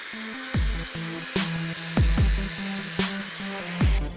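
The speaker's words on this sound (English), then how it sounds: "We'll start with the cutoff wheel to get closer." Abrasive cutoff wheel slicing into a steel fallout shelter stack, a series of short, loud grinding bursts with sharp attacks and a low motor hum between them, rising and falling in an irregular rhythm.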